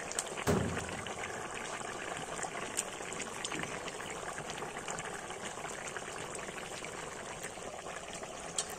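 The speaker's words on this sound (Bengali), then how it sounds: "এভাবে ফুটে উঠেছে তরকারিতে।" A pot of potato and greens curry with cumin paste simmers on the stove, a steady low bubbling under faint clatter and one brief knock near the start.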